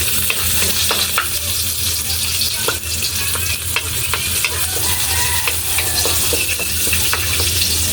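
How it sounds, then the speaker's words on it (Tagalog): Garlic sautéing in a hot pan for ginataang tulingan, a steady close crackling sizzle with frequent stirring scrapes and clinks throughout, no talk. "So, gisa po tayo ng bawang."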